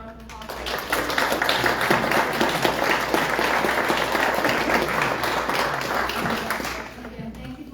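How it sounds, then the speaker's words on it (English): An audience at a July 5 political debate breaks into applause, a dense, steady round of clapping that swells quickly, holds for several seconds and then tapers off. "Let's give a big round of applause."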